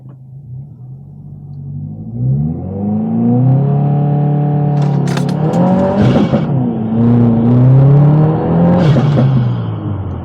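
A 2022 Subaru WRX with a Perrin shifter stop accelerates hard, its engine rising in pitch, dropping at a quick gear shift and climbing again, loud and close from inside the car.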